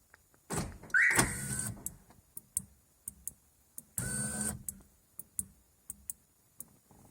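Power windows on a Mazda 626 GF or Mazda 6 GG closing automatically after the car is double locked: two longer motor whirs separated by a series of short, sharp relay clicks and brief bursts, recorded close up with no talking.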